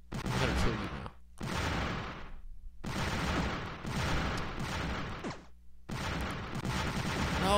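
Bombs go off in the Bomberman Live video game in loud, close bursts, several harsh explosions following one another with short gaps between them.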